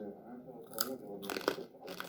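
Pork cracklings with puffed skin are bitten and chewed up close, giving a few sharp crunches in quick succession, quiet and intimate.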